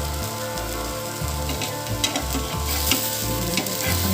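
Khasla bora fritters crackle and sizzle steadily in oil over low heat, a close, busy bubbling layered with repeated low thumps of a utensil stirring and turning them, with no talking.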